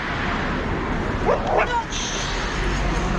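A dog gives a couple of short barks amid crowd babble and traffic noise at an outdoor protest in front of the Russian embassy, brief and mid-distance, with people talking around it.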